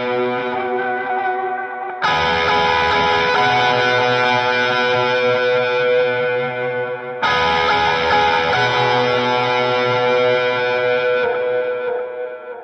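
Electric guitar played without slide through a Line 6 Helix rig, sustained chordal bridge part with distorted, effected tone and reverb, loud and continuous with two strong re-struck chords, no talking.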